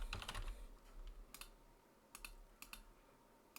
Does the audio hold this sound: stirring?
no